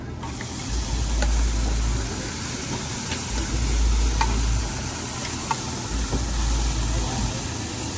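Brisket sizzles on a Korean BBQ grill, a steady close crackling hiss with faint scraping and a low hum of restaurant noise underneath, no speech.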